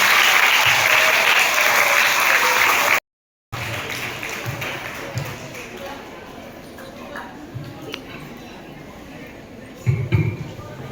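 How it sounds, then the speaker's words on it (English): Steady, dense applause from a crowd fills the room, clapping continuously for a few seconds before a brief cut, then lighter clapping continues. "let us welcome them on stage with a big round of applause"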